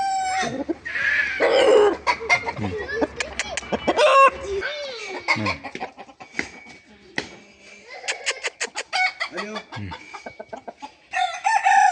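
Large decorative rooster kept for sale, giving repeated clucks and a crowing call close by, with people talking intermittently over and between the bird sounds.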